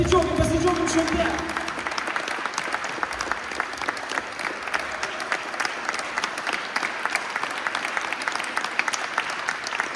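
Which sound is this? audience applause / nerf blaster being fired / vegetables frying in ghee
audience applause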